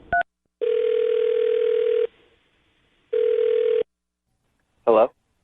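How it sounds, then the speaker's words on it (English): A telephone line sounds during a call: a brief blip, then two long steady electronic tones separated by silence, and finally a short warbling burst. The sounds are clear and close, with no talking over them. "I'm going to dial his phone number right now"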